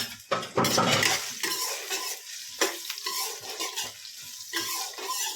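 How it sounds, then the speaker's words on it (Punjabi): Dried amla (Indian gooseberry) tipped into hot oil for pickle crackles and sizzles amid loud clattering and stirring of utensils, with a sharp burst near the start and then busy, uneven scraping and popping throughout. "ਇਹਦਾ ਤੇਲ ਹੋ ਗਿਆ ਗਰਮ ਤੇ ਨਾਲ ਦੇ ਨਾਲ ਜਿਹੜੇ ਆਪਾਂ ਸੁਕਾ ਕੇ ਰੱਖੇ ਹੋਏ ਨੇ ਔਲੇ ਇਹਨਾਂ ਨੂੰ ਵਿੱਚ ਪਾ ਦਾਂਗੇ"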